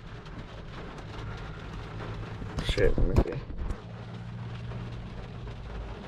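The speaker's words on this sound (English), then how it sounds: "Rain like a motherfucker." Heavy rain drums on a car, a 2006 Mustang GT, during a rideshare drive. The steady wash runs throughout while someone speaks briefly over it near the middle.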